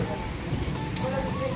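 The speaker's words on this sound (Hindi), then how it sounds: "कभी तेज बारिश हो रही है, कभी कम, कभी तेज कभी कम बारिश हो रही है।" Heavy monsoon rain pours steadily in Delhi, a dense continuous hiss on surfaces, with a voice talking over it.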